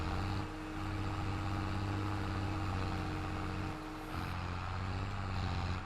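A farm tractor's engine runs in a steady, loud drone with a constant low hum for about six seconds. It dips briefly twice, and no one speaks.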